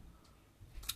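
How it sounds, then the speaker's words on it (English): Scissors cutting out a paper banner, a quiet sparse scene ending in one short sharp snip near the close. "snip, snip, snip, as you do. Let's cut it out"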